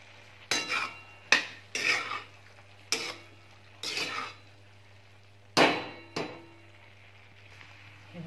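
Moong dal is salted, stirred and covered in a pot, giving about seven sharp metallic clinks and scrapes of a spoon and lid against the pot, spaced irregularly over a quiet background hum.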